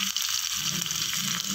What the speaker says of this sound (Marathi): आपण हा लसूणही चांगला ह्यामध्ये परतून घ्यायचा